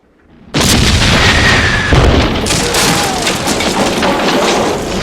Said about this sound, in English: What are the odds that a cannon goes off right as he's about to shoot the legs of the stool?